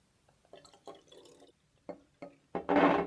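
Water is poured into a glass container holding oil in a home science experiment, starting as a few separate trickles and drips and then swelling into a steady, close pour.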